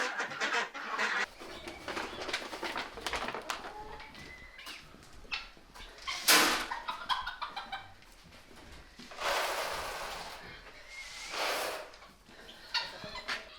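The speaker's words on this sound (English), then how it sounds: "Happy ducks." A chorus of ducks quacks and clucks close by in irregular bursts on a farm at morning feeding, some louder calls rising above the flock.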